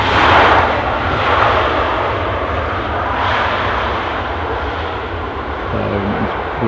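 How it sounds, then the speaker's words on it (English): Ryanair airliners taxi at Edinburgh airport, a steady broad jet engine roar that stays loud and close throughout with slight swells, heard alone outdoors. "full of Ryanair's taxiing out"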